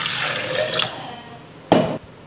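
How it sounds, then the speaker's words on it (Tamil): Water poured into freshly squeezed lemon juice mixed with white sugar and a little salt, a steady close trickle and splash lasting about two seconds with a brief louder gush near the end. "தண்ணி ஊற்றிக்கலாம்."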